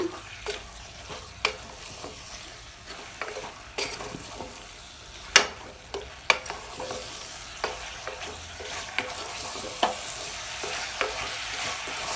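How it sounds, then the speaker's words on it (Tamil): Onions and green chillies for mutton curry sizzle steadily in a pan while a utensil stirs and scrapes, with occasional sharp clinks against the metal. "எல்லாம் சேர்த்து நல்லா மிக்ஸ் பண்ணி விட்டுடலாம்"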